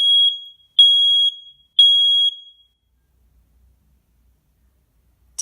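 A Nest Protect smoke alarm under test sounds three loud, piercing electronic beeps in an even pattern, each about half a second long. Near silence follows.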